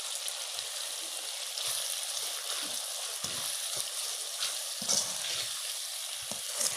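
Chopped green chillies hit okra and ridge gourd frying in oil, giving a steady, dense sizzle that holds at an even level throughout, with no voices.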